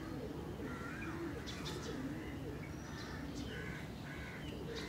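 Pigeons coo softly and repeatedly in the distance, faint against a broad background hiss, with a few other bird calls scattered through.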